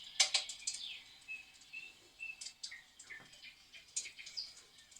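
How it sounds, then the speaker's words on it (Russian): An electric fireplace plays a crackling-wood effect mixed with birdsong, giving soft irregular pops and clicks alongside scattered faint chirps. "Вот потрескивание дров с пением птиц."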